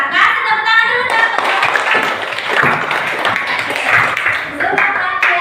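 A school class in an Islamic religious studies lesson claps for a student's correct answer, a loud, busy spell of many hands clapping that follows a voice speaking and continues for several seconds.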